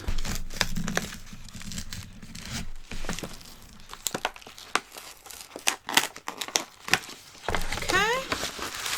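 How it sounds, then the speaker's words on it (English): Paper envelope from an Ipsy Glam Bag Plus holding makeup brushes being torn open, with repeated crinkling and tearing bursts close by and brief rustling throughout. "let's go ahead and open it. It's just in like a, you know, paper envelope."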